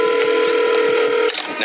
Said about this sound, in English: I frantically dialed 911.